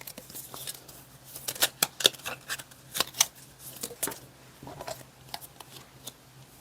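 Tarot cards being shuffled and drawn at close range: quick papery flicks, slides and soft taps in irregular bursts over a quiet background, with no talking.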